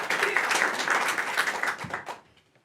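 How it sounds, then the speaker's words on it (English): A comedy show audience breaks into a dense round of applause, loud and full for about two seconds before quickly fading away. "So I round of applause, sir, for yourself"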